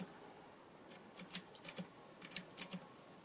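Range-switching relays in a nixie-tube multimeter with a faulty auto-ranging loop click in sharp, quiet bursts, about ten snaps grouped in pairs and triplets over a faint hiss.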